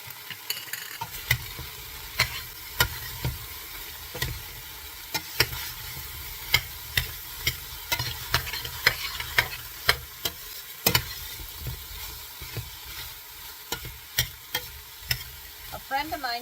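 Pork browning in a frying pan for kimchi pork: a continuous close sizzle runs throughout, punctuated by regular sharp clicks and scrapes of stirring against the pan.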